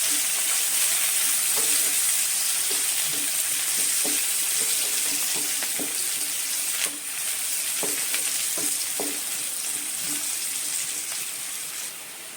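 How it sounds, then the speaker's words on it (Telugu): Onions, carrots, beans and capsicum stir-fried for vegetable noodles, a steady close sizzle with repeated scraping and stirring strokes of a spatula against the pan throughout. "ఇప్పుడు ఇందులో క్యారెట్, బీన్స్ అండ్ క్యాప్సికమ్ వేసుకోవాలి. మంచిగా కలుపుకోవాలి."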